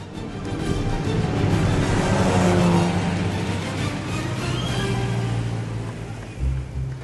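Vintage Frazer Nash racing car at Brooklands racing hard against an Alta, a loud sustained engine roar with rising and falling revs that drops back near the end.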